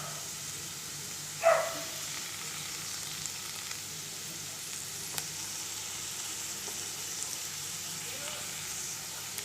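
Cabbage and potato pieces fry in a pan with a soft, continuous low sizzle, and a single brief clack comes near the start.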